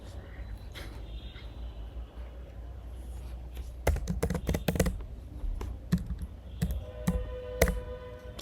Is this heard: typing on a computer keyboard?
yes